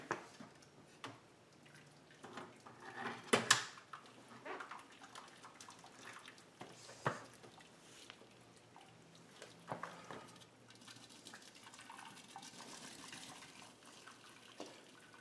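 Liquid drains from a wort cooling setup during homebrewing, a soft trickling and splashing of water that runs fairly steadily and quietly, with a few louder splashes early on and no talking.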